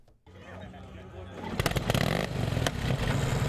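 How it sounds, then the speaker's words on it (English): An Indian motorcycle rumbling down a road during a motorcycle day event in Springfield, its engine growing louder and revving with mechanical clatter, apparently passing close, while a voice talks over it. "The sound, the look, the feel of an Indian motorcycle rumbling down the road is like no other."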